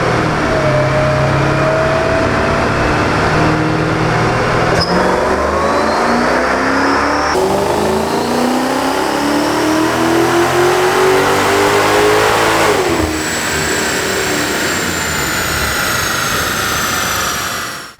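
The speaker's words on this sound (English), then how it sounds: "Here's the third and final dyno run on the E55." A modified Mercedes-Benz E55 AMG roars loudly on a dyno, its engine climbing through the gears in long rising sweeps with brief shift breaks, ending in a sustained high-rpm howl before cutting off.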